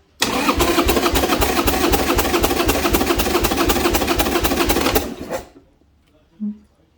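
A troubled Harley-Davidson motorcycle engine cranks and runs with a rapid, even, loud chugging pulse for about five seconds, then cuts off abruptly into near silence.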